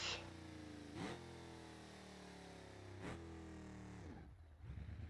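A raw car engine without mufflers in the video game BeamNG.drive drones at high revs, with two quick gear shifts and a sudden drop and rough sputter near the end.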